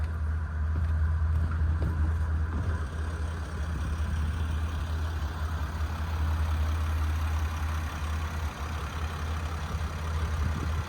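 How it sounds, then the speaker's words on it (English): A 2023 Sunseeker 2400B boat's engine, after a push start, idles with a steady, deep low hum and a faint mechanical whir, running evenly and unchanging throughout. "Push start for the engine."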